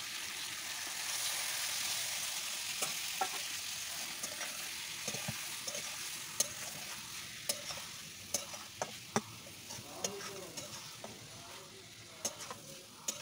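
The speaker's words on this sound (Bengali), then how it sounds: "আর এখন আমি চিংড়িটা দিয়ে আরও সুন্দর করে কিছুক্ষণ কষিয়ে নেব।" Shrimp stir-fried in a thick spiced masala, a steady soft sizzle broken by repeated sharp scrapes and taps of a spatula against the pan, close and fairly quiet.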